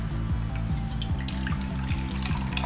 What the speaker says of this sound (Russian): Наливаю в такую тару.